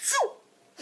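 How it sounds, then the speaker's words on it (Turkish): A girl lets out a single quick, sharp sneeze up close, followed by brief quiet. "Kızlar hapşırınca."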